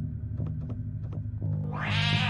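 Cat meows in the video game Octave, a few short repeated calls over a steady droning game soundtrack, with a rising noisy swell building near the end.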